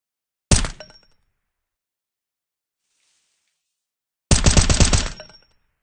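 Two bursts of rapid automatic gunfire in Roblox's Call of Duty game, a short loud volley then silence, then a longer rattling burst near the end, with a faint high ring between.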